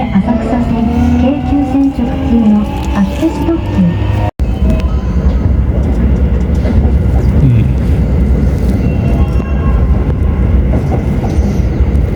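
A Keisei Railway express train running on rails near Higashi-Matsudo station, a loud continuous rumble with rhythmic wheel clatter heard from inside a carriage, filling the whole stretch without pause.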